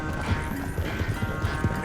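Horse hooves clip-clop at a steady walking rhythm in the video game Red Dead Redemption II, a run of soft, evenly spaced low thuds heard close over a continuous ambient background, with no talk.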